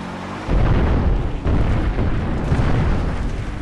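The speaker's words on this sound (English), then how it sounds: "There's explosions." Artillery shells exploding in Far Cry 4, a loud, sustained barrage of deep booms and rumbling blasts that kicks in suddenly and continues without talk.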